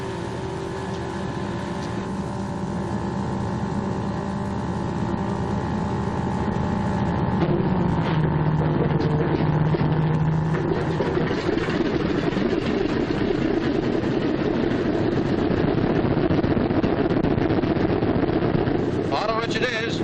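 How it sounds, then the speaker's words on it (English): The left engine of a B-26 airplane starts and runs, building into a loud, continuous rumbling roar that swells partway through and then holds steady and close. "I'm going to start the left engine first."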